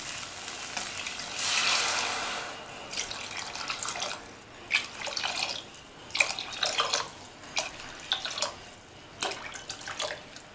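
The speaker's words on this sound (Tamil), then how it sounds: "இப்போ தண்ணி சேர்க்கணும்." Water pours and splashes into a pot of rice and lentils for sambar rice in several bursts, with a continuous sizzling, bubbling background between pours.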